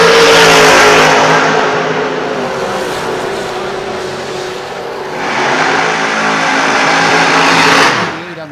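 A race car accelerates hard during time trials at a dirt racetrack, its loud roaring engine filling the air continuously for several seconds and swelling again as it passes close by.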